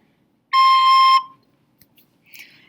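A single sustained high note held for about half a second, clear and bright, then fading into quiet with faint soft noises afterward.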